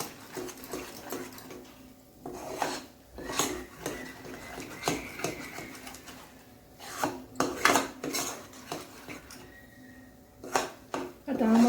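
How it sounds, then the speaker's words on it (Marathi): A spoon stirs black masala chicken sukka in a metal pan, scraping and clinking in irregular bursts close by, with a voice talking over the cooking sounds. "जोपर्यंत काळा मसाला पूर्ण चांगला मिक्स होत नाही तोपर्यंत त्याला हलवत राहायचं."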